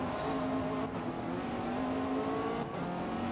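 A Zenvo TSR S supercar races on the Nordschleife in the Forza Motorsport racing game. Its engine drones loudly and continuously at high revs, with brief dips that sound like two quick gear shifts.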